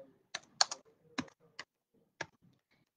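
Computer keyboard typing in a quiet room: a handful of sharp, close key clicks in an irregular rhythm, with brief pauses between keystrokes.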